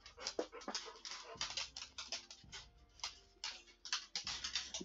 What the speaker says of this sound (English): as you guys can hear in the background, my dogs are hyperactive